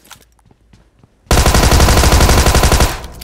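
A sustained burst of automatic gunfire erupts in PUBG after a quiet moment, loud and close, a rapid stream of shots lasting over a second before cutting off.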